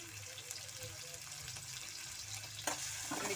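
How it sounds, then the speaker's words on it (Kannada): Onions fry in a pan with a soft, steady sizzle and a few clinks of stirring, close by and faint, while someone talks. "ಈರುಳ್ಳಿ ಚೆನ್ನಾಗಿ ಬೇಯ್ತಾ ಇದೆ ನೋಡಿ."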